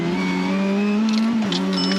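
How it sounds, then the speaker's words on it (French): A race car on the Paul Ricard circuit after a missed gear shift: a loud, steady engine drone holds one pitch, then dips and wavers, with tyre hiss and small bursts of noise near the end. "Mais j'ai raté un rapport"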